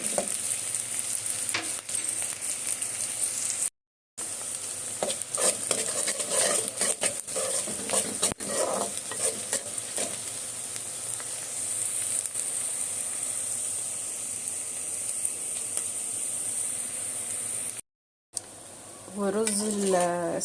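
Chopped onions sizzle in oil in a cooking pot while a spoon stirs them, a dense, continuous frying hiss broken by scraping strokes and two brief silent gaps.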